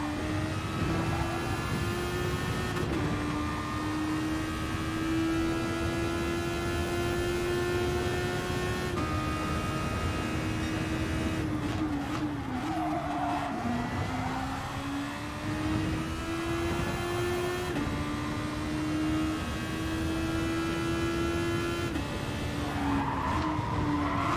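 A Super Formula race car at Interlagos in a racing video game whines at high revs, shifting down through the gears with stepped pitch drops and rising again, with tyre scrub, loud and continuous with no talk.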